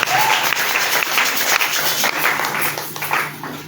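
A church congregation claps and acclaims Jesus during a worship service, steady dense applause with shouts filling the room continuously from start to finish.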